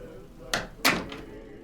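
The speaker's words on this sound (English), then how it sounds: "That's just a door closing." A door closes in the video game Cult Hunter, heard as two quick, muffled thuds about a third of a second apart, fairly faint against a quiet hum.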